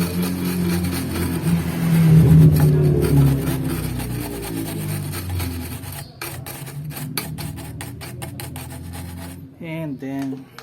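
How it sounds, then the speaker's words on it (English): A steel wire brush scrubs rust on the body of a Honda Civic EG, producing loud, harsh rasping strokes that grow faster and choppier in the second half before a brief pause and a final burst. "I had to use steel brush over here."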